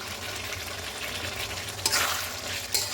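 Chicken with tomato, green chili and ginger frying in a pan while being stirred, a steady close sizzle with a couple of louder scraping bursts from the stirring near the end.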